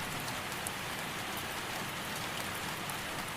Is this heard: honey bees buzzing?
no